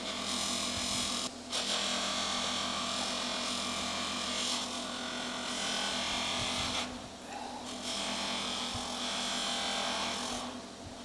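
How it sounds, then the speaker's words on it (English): Buffing wheel with chalk compound polishing a part from a 1982 Honda CB 900F, a steady close whirring rub that dips briefly a few times as the piece is shifted against the wheel. "This buffing saves a lot of elbow grease, let me tell you."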